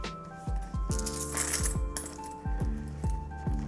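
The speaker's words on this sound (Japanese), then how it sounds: "100円玉、10円玉、1円玉合計10枚入れていきます" Ten Japanese coins, a mix of 100, 10 and 1 yen pieces, dropped one after another into a soft leather L-zip long wallet, giving a run of close, sharp metallic clinks and jingles in a quiet room.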